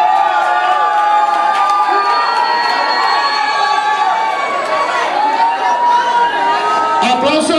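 Crowd at a Halloween party cheering and shouting continuously, with whoops and children's shouts, voices chattering throughout at close, loud level.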